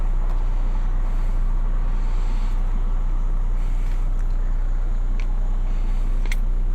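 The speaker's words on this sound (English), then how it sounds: "We'll leave the radio off so that we can listen to the dieseling. The diesel noise," A low, steady drone fills the cabin of a Mercedes W140 350SD with its six-cylinder diesel engine running while driving. The rumble is even and continuous, with faint road noise and no talking.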